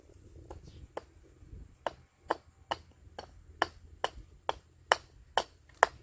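Axe chopping pithy wood to taper a carved spoon handle: about a dozen sharp, close wooden chops in a steady, slightly quickening rhythm, each a crisp knock with silence between.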